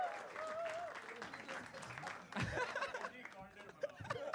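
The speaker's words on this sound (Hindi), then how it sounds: "जोरदार तालियां for तन्मय भाई man" Audience applause for a guest on a comedy reaction show, a steady clapping wash mixed with chuckles and laughter, with voices talking over it throughout.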